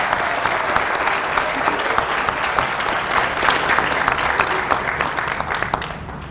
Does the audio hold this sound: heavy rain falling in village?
no